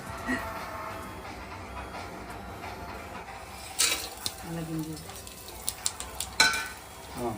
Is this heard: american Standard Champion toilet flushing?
no